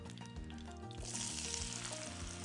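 Tomatoes added to a pan with fried ñora pepper, sizzling and crackling steadily in hot oil, close and continuous, with faint music underneath.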